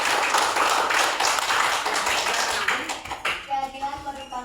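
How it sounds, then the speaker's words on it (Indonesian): A classroom of students clapping hands together in a steady, dense burst of applause that tapers off, with voices and room sounds emerging as it fades. "Oke, tepuk tangan."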